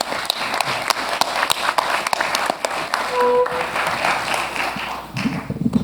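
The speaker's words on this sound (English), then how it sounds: "let's have a round of applause for the panel" An audience at a space-resources conference applauds its panel, with dense, steady clapping filling the room, a brief tone cutting in partway through, and the clapping thinning toward the end.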